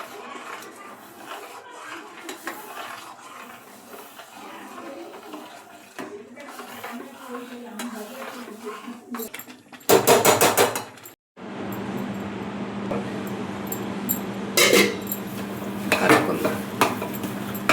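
Wheat semolina is stirred into boiling water in a pot, with a spoon scraping and clinking against the metal in irregular bursts, including a loud stretch of rapid scraping, while a person talks intermittently.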